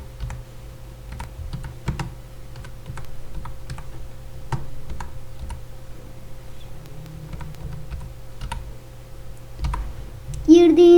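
Computer keyboard typing while building a project in Scratch 2: steady, close, light key clicks run continuously over a faint background hum.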